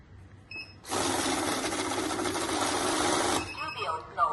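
An automatic cash counting machine runs through a stack of mixed banknotes in one loud, steady whir of rapid flicking that lasts a few seconds and then stops abruptly. Quiet talk is heard before and after it.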